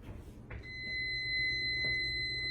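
Kitchen oven timer sounding as a sheet pan meal of honey garlic sausage and veggies finishes, a steady high electronic beeping tone that starts abruptly and holds, moderately loud above faint room noise.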